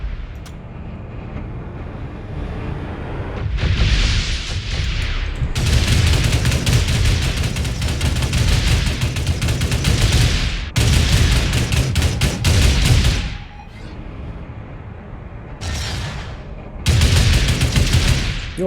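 Rapid weapon fire from a ship in the space game Starbase, strafing a large ship on a fly-by: loud sustained bursts of gunfire with short pauses between volleys, no talk.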